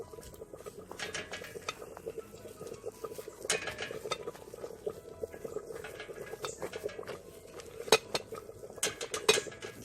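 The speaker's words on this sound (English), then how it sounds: "I'm just using the mixing spoon just to mix in" A mixing spoon stirs cornmeal in a pot, with scattered scraping and tapping clicks over a low, steady background, no talk.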